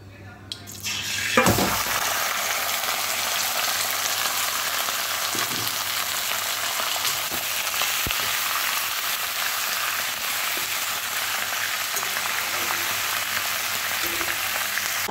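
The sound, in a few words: mutton frying in oil with bay leaves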